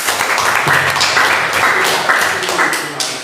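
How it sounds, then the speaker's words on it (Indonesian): Seminar audience claps for a participant named Dimas, a short burst of dense applause with a few distinct rhythmic claps, loud and close throughout. "kita berikan tepuk tangan buat Dimas"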